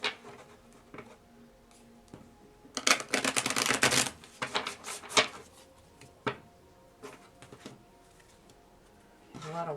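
Tarot cards being shuffled by hand, a dense riffling burst in the middle followed by scattered papery flicks and taps, fairly close and moderately loud.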